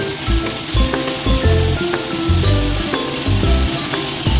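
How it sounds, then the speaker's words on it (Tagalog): Marinated beef fries in a pan with a loud, steady sizzle throughout, broken by a few soft clinks and scrapes close by. "So, i-fry natin yung ating beef."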